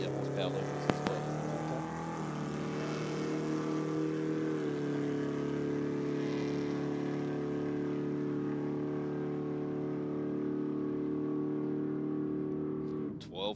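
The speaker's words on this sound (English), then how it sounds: "They just sound so good, those hot rods, when they're at full noise" Hot rod drag cars at full throttle at Sydney Dragway, a loud, continuous engine roar holding a steady pitch for several seconds, with a voice talking over it.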